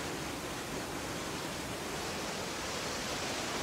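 A waterfall on a scale model sends out an even, unbroken hiss of rushing water, loud and alone for the whole stretch with no pauses.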